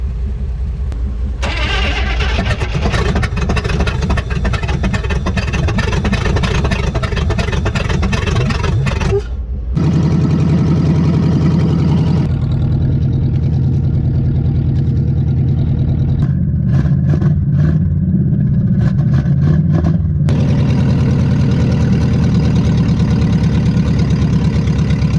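A 1959 Rambler Ambassador engine that sat for 39 years runs loud and close with a steady rough drone, cuts out for a moment, then settles into a lower, uneven idle.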